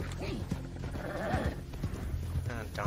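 Horse galloping in Red Dead Redemption 2 online, steady hoofbeats running under game sounds and someone talking, with some animal bleating and whinny-like calls mixed in.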